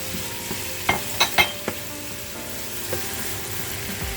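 Fish curry base frying in a pan for Guyanese curry, a steady close sizzle and bubbling hiss with a few sharp pops and spatters near the start.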